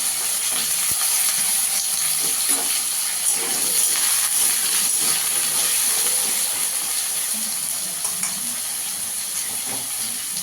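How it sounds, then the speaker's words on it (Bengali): Continuous loud sizzling hiss of potatoes frying in hot oil, steady throughout with faint clatters underneath. "আলুগুলোকে ভেজে নেব আলুগুলোকে একটু ভালো করে ভেজে নিতে হবে"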